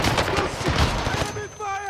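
Rapid gunfire erupts in a Call of Duty Warzone Resurgence trios match, loud dense bursts of shots in quick succession that fade into a ringing tone with faint game sounds.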